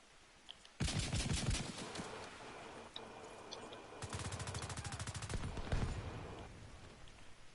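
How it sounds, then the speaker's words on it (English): Gunfire in the Division 2 video game, including sniper rifle shots: a loud sharp blast near the start followed by bursts of rapid repeated shots, with quieter ambient game noise between them. "Look at that, I sniped him."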